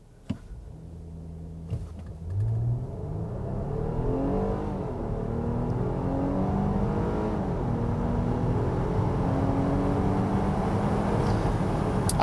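A 2022 Nissan Pathfinder Platinum accelerates hard on an acceleration run, its engine note rising steadily through several smooth gear shifts, loud and continuous from near the cabin with no talk.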